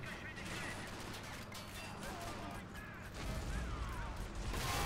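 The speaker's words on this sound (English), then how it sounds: "I'm just literally direct controlling left to right, left to right, left to right with the machine gun" Machine gun fire in the war game Men of War: Assault Squad 2 rattles on as a dense, continuous roll of rapid shots, growing heavier toward the end, with a voice talking over part of it.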